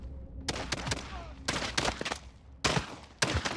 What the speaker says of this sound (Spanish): Es un balazo.